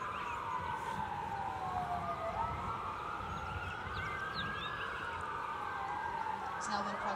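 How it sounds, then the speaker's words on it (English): Emergency vehicle sirens wail at a staged crash scene, a steady rising and falling tone carried over continuous background noise, moderately distant and sustained throughout. "Here are additional sirens."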